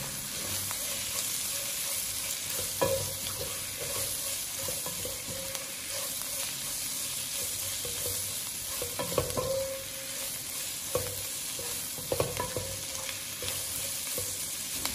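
Green chili peppers and garlic stir-frying in a wok, a steady loud sizzle running throughout with occasional sharper scrapes and clatters from tossing.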